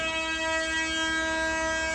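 A DEMU train horn blares steadily and loudly, a sustained multi-tone blast over the rumble of the passing train.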